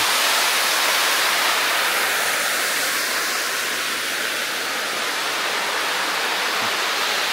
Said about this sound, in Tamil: ரொம்ப உயரத்துலேருந்து தண்ணி வருதுங்க